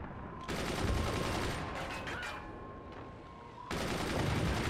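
Cannon and minigun fire in the physics building game Forts, dense rattling gunfire and booming shots in sustained loud bursts with a brief lull in between.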